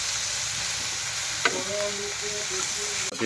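Small river shrimp and green chilies fry vigorously in a pan, giving a loud, dense, continuous sizzle with a brief clatter near the end.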